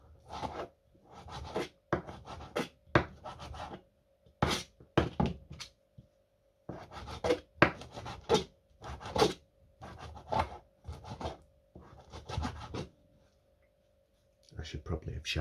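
A blunt knife sawing through a packet of beef on a board, with repeated short scraping strokes in uneven bursts and pauses, close and fairly quiet, while a person talks over it.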